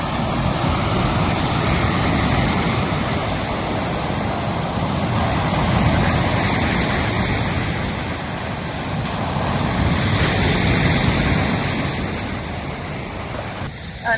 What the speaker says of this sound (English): But look at the waves this morning.